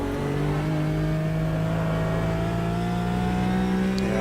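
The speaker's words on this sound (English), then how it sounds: "Good old Porsche flat six sounds in our ears" A Porsche flat-six GT race car engine in Automobilista 2 drones steadily and loudly, its revs climbing slowly and evenly throughout with no pauses.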